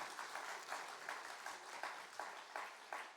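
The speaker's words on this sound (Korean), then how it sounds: "박수 한번 더 칩시다 강하게" Steady applause from a crowd at a university student faith retreat service, with rhythmic bursts of clapping that swell slightly, somewhat distant and moderately quiet.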